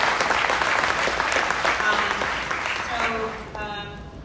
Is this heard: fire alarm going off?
no